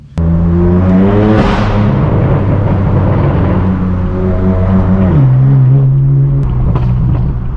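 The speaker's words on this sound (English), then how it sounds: "we got to terrorize the streets in this straight pipe BMW M4. So I'm gonna go ahead and throw this thing in sport" A straight-piped BMW M4 F82 in sport mode revs hard and close. Its loud raspy exhaust climbs, drops and holds at steady high drones, with sharp pitch shifts and crackles on the throttle lift near the end.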